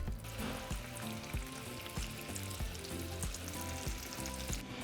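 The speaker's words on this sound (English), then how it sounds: "now we're just going to fry the remaining of our taquitos" Refried bean taquitos fry in hot oil with a steady, close crackle and hiss that holds even throughout, a soft background tone beneath it and no voices.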